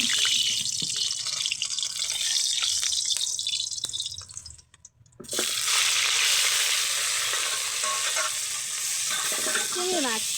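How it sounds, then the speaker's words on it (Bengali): Prawns fry in oil in a wok, giving a loud, steady sizzle with stirring scrapes. The sizzle drops away briefly midway, then comes back just as strong. "চিংড়ি মাছগুলো তেলে ফাড়ে দিয়ে ভালো করে নাড়াচাড়া করি লাল লাল করে"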